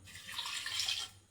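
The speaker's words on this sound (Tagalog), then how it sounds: "Lalagyan na ng tubig." Water runs from a kitchen tap into a pot in a brief, soft, steady rush, with no talk over it.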